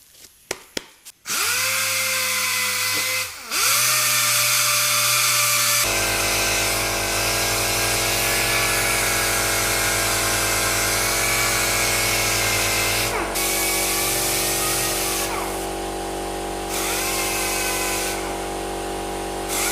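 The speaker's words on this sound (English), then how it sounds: "I'm just going to sand all this area down" A power sander works down a body panel on a Honda Civic, running loud and continuous with a strong steady whine after a few short starts, close by and without speech.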